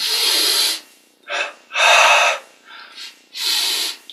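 Deep breathing during a yoga exercise, with several loud, close inhales and exhales alternating, each lasting about half a second, with short pauses between them and no talking.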